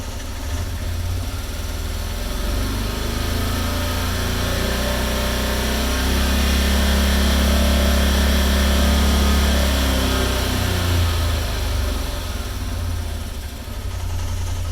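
A Can-Am Defender side-by-side engine climbs from idle to about 4,000 RPM, holds a loud steady drone, then winds back down to idle, heard up close with no talking.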